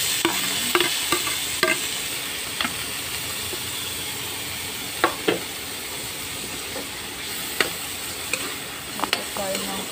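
Onion, tomato and garlic sauté in a pan, a steady sizzle and hiss with scattered clicks and scrapes of stirring over a continuous frying bed.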